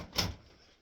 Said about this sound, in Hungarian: becsukom az ajtót